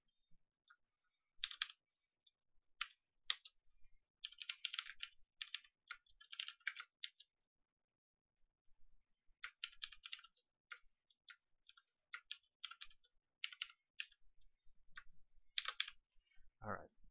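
Quiet bursts of computer keyboard typing, fast clicking keystrokes in irregular runs separated by pauses, heard alone without talk.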